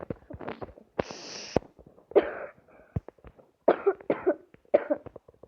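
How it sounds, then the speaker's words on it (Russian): Several harsh coughs close by, some in quick bursts of two or three, separated by short pauses and a brief hiss. "у мене просто кашель"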